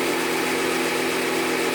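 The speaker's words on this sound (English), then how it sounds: "I'm going to turn this belt sander on, and I'm just going to sand this little piece of pine" Raycon belt sander running on a small piece of pine, a steady dense whirring drone with a faint vibration, close and unbroken for under two seconds.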